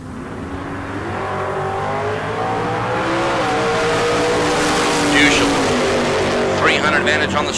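An 89 Firebird and a 69 Camaro launching at a drag strip bracket race, engines rising from a rumble into a loud, building roar under announcer talk over a public address system.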